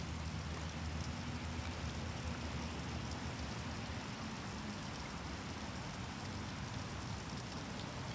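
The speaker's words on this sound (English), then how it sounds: "It's starting to rain." Rain starts falling outdoors as a steady, dense hiss of drops on surfaces, faint and continuous with no distinct individual drops and no talk.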